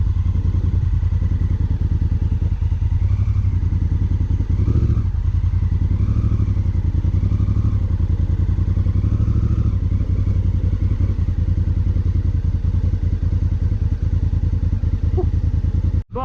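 A 2016 Honda Africa Twin motorcycle idles and putters at low speed through a wide U-turn, its close, steady engine thrum rising slightly a few times, ending in a sharp knock.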